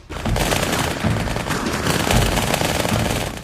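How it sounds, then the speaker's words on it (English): Dual-wielded automatic weapons fire in the Halo 2 video game, a loud unbroken rapid burst of gunfire running nearly the whole time with no talk. "So you walk around with these two bullet hoses."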